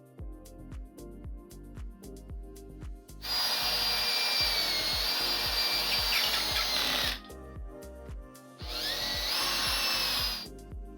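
New bolts are power-tightened on a BMW M62B46 V8 engine from an E38: two long, loud whirring bursts from the driver, separated by a short pause, over a faint steady ticking background.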